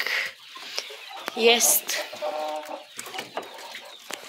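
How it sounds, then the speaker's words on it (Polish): Silkie hens and two roosters cluck and call close by in a small flock, a brief mix of soft clucks and a sharper squawk while someone talks over them. "I tutaj mamy kury i 2 koguty"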